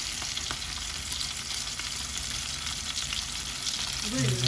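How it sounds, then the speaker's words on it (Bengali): Cauliflower pieces fry in hot oil for a tilapia and potato curry, a constant close crackling sizzle with faint stirring, and a brief voice-like sound rising at the very end. "আমাদের কপি ভাজি হয়ে গেছে তেলের মধ্যে"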